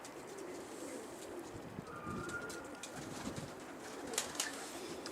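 A caught tumbler pigeon coos softly in a few faint, low calls amid steady outdoor background noise, with brief chirps and rustles near the end.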